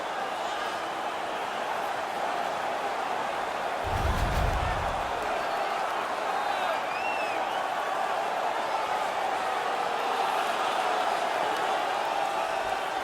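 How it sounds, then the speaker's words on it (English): A hockey arena crowd roars in a continuous, dense wall of cheering after a fight, with a heavy thump partway through and faint whistles over the sustained noise. "Their man's won the fight. The crowd is ecstatic."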